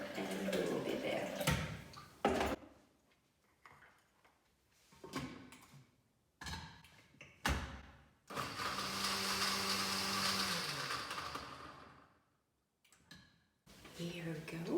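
A blender making almond milk whirs loudly for a few seconds amid scattered clunks and handling noises, with brief stretches of speech around it.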